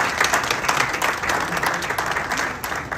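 Crowd at an airport welcome at Prempeh II International Airport applauding loudly and steadily, dense clapping sustained throughout with a busy, reverberant crowd wash.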